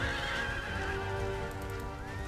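Horses neigh during a cavalry charge in the Empire Total War strategy game, a sustained high whinny running over a soft bed of hooves and battle noise, moderately quiet and without speech.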